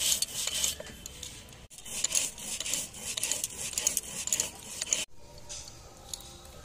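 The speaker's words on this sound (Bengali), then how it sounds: "প্রথমে আমি শুকনো মশলাটা গুঁড়ো করে নিচ্ছি" Dry spices being ground by hand, a dry rasping rub repeated in continuous close strokes, broken by two brief pauses, with no talking over it.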